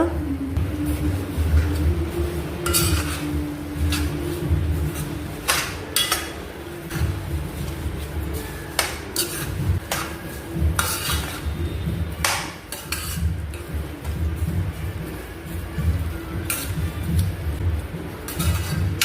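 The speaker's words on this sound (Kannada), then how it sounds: "ಈಗ ಚೆನ್ನಾಗಿ ಮಿಕ್ಸ್ ಮಾಡಿಕೊಳ್ಳುವ." A spoon scraping and clanking against a pan while grated carrot and sugar are stirred together for carrot halwa, with irregular metallic knocks and scrapes repeating close by over a low steady background hum.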